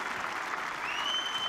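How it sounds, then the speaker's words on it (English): A squash crowd at the 2015 El Gouna tournament bursts into loud, dense applause and cheering after a fast rally, a steady wash of clapping filling the hall. "The crowd going bonkers again."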